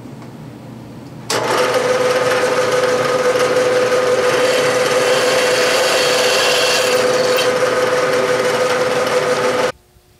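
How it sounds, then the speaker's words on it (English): A drill with a 1/4 inch bit bores angled holes at 10 degrees into a cast electric motor base, following an existing pilot hole. A steady, loud whirring and grinding drone starts abruptly, runs for about eight seconds, then stops. "This is the setup for drilling those holes at a 10 degree angle."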